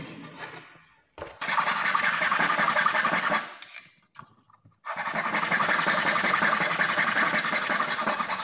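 A small piece of wood, about 2 cm, is sawn by hand in two bursts of rapid, rasping back-and-forth strokes separated by a short pause, close and loud.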